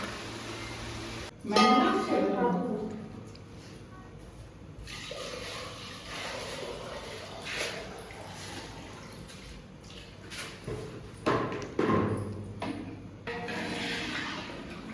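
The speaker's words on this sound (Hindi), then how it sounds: "इसमें मैंने चावल का पानी डाला है" Rice water is poured into a pot of chicken curry in a village kitchen, a splashy liquid rush that then continues as softer sloshing and clatter.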